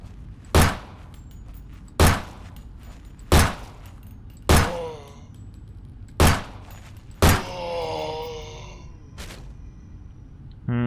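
Six sharp pistol shots at zombies in the horror video game Nightmare of Decay, evenly spaced about a second and a half apart, loud and close, with groaning zombie cries after some of them.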